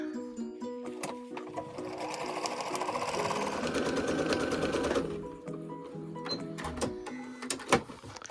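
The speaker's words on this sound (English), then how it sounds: "And then I will stitch down the other side." A sewing machine stitches a quilt-as-you-go Valentine's table runner with appliqué, running in a steady mechanical whir for several seconds before stopping, with short bursts and clicks around it.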